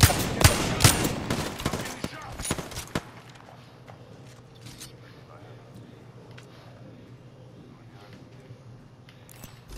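Rapid bursts of automatic gunfire in Apex Legends crackle loud and close for the first few seconds, then give way to sparse, fainter shots and clicks, with a player talking over the action.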